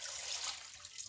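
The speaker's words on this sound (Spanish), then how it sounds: "Le vamos a agregar el agua." Water being poured into a cooking pot holding panela and cloves for Colombian caramelized oat drink, a steady close pouring splash lasting about a second, with no talking.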